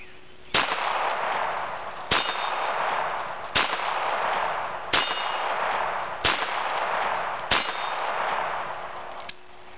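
Ruger .22 Bearcat pistol fired six times at steady intervals of about one and a half seconds, each sharp, close crack followed by a short ringing decay against outdoor background noise.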